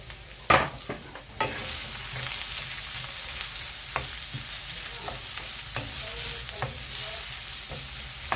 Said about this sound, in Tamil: இப்போ ஆயிலில் பெருஞ்சீரகம் அப்புறமா ஆனியன் அண்ட் பச்சை மிளகாய் போட்டு நல்லா வதக்கிக்கலாம்